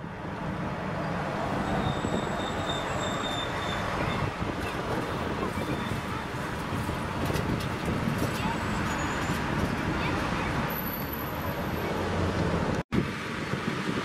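Wind blows through Bordeaux on a hot day, a steady broadband rush mixed with distant traffic and rail rumble, a voice speaking over it, and a sharp dropout near the end.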